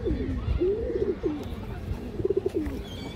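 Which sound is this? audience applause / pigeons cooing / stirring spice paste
pigeons cooing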